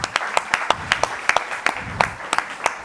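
Scattered applause from a small audience at a Catalan public-health debate event: a dozen or so distinct claps, fairly close and sparse, with faint talk underneath.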